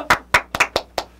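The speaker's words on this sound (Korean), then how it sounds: "박수로." A small group claps about five times in quick, uneven bursts after a light game during a talk-show appearance, the claps close and crisp with no voices over them.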